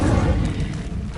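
A whooshing, booming burst as the Incendio fire spell is cast in the Hogwarts Legacy video game, short and loud with a low rumbling thud that fades quickly.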